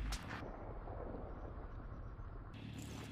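A loud shotgun blast in the shooter game Warzone, a single sharp boom at the start followed by a sustained rumbling roar of battlefield noise that holds steady for the rest of the moment.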